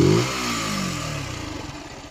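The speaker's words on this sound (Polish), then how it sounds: "Co do wydechu, na początku było tragicznie, bo był bardzo cichy, spokojny, w sumie go nie było słychać." A Zontes 125 125cc motorcycle engine revs briefly at the start, then settles into a steady, throbbing exhaust idle that continues close by without any talk.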